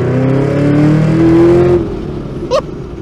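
Chevrolet Camaro ZL1 1LE exhaust on a track, loud and close: a rising rev and rumble during a downshift, then a sharp crack and a short burst of pops near the end, with no talking.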